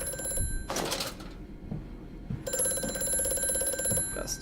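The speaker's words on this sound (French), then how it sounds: "il y a le téléphone qui sonne" A telephone rings inside the dark horror game Amnesia: A Machine for Pigs, a shrill electronic bell with a high sustained tone, heard in two bursts over a low ambient rumble.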